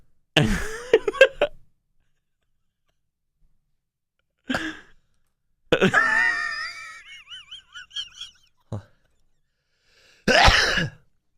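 A few short gasping breaths build toward a sneeze that never fully arrives, followed by wheezy, whistling exhales and a final sharp burst.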